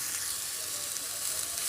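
Onions and tomatoes sautéing in a pan for idli upma give a soft, steady sizzle, faint and continuous with no talk.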